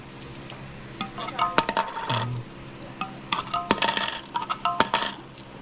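Loose coins, including one-peso pieces, dropped and set down onto a surface, giving several bright metallic clinks and jingles in short bursts, close by and fairly clear.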